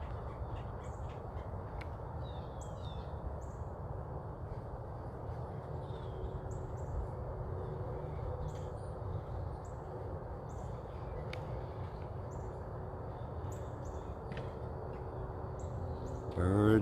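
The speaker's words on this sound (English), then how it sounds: "you're hearing several birds in the background there" Several birds, woodpeckers among them, call outdoors with scattered short chirps and caws at a distance over a steady low background rumble.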